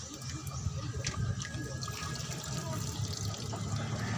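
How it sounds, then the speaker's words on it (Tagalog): Water pouring steadily into a container, a continuous splashing gurgle at moderate volume without a break. "lagyan muna natin ng tubig para mag-circulate yung dumi"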